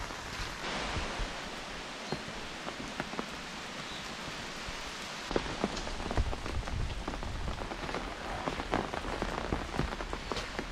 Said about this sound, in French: ça ne sera pas une pluie d'averse, mais continue.